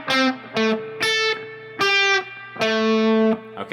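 A D'Angelico Deluxe SS electric guitar plays a simple phrase plainly, five distinct sustained notes with short gaps between them, clean and close with no talking.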